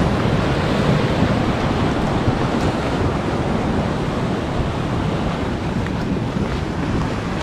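Ocean surf at Eden Beach, Antigua, washes in as a steady, dense roar. Heavy wind buffets the microphone throughout, and no voices are heard.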